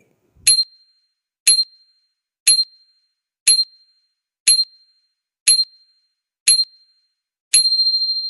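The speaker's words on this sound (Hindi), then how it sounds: "जवाब है घंटी" A bright bell rings nine times at an even one-per-second pace, each strike clear and ringing briefly before fading, the last one sustained.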